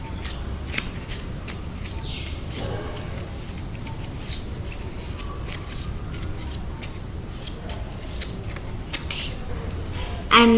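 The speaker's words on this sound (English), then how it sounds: "You need to shuffle it properly and ask your partner to shuffle a little." A deck of playing cards being shuffled by hand at close range, with a steady run of soft riffling and flicking clicks that continues without a break and has no talk over it.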